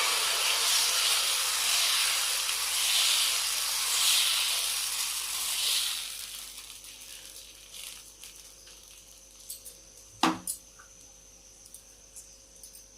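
Lentil adai dosa batter hitting a hot tawa, a loud hissing sizzle that fades gradually over several seconds, followed by a few sharp clinks and light handling sounds near the end.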